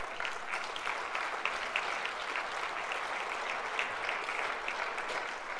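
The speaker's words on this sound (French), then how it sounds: "Je crois que nous pouvons les applaudir car ils ont fait un remarquable travail." Steady applause from a congress audience at the European Left Congress fills the hall, dense and even throughout, with no voices standing out.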